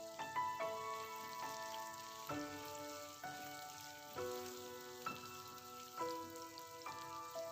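Onions, almonds and slit green chili slices fry in a pan with a steady, close sizzle, partly masked by louder background music carrying repeated melodic notes.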